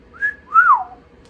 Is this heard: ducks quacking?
no